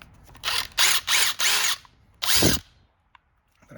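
A DeWalt DCF901 1/2-inch cordless impact wrench runs in short, loud, close bursts, four in quick succession, then a brief pause and one more, with no talking.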